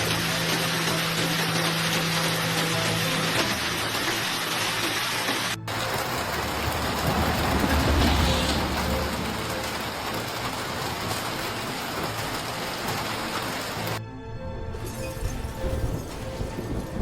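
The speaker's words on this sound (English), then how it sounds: "the hailstones continue to fall like rain" Large hailstones pour down like heavy rain in Alberta, Canada, a dense, steady roar of impacts that continues unbroken and loud for the whole stretch.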